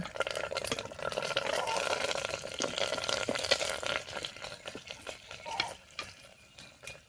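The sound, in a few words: curry leaves sizzling in hot oil for gongura chicken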